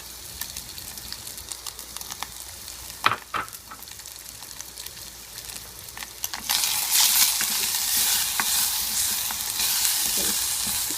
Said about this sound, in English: stir it along with the pork and let it cook for about 1 minute